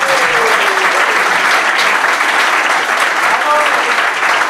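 Loud, sustained applause from a live audience at a talk-show taping with a former Real Madrid basketball player, a dense steady wash of clapping with a few faint voices mixed in.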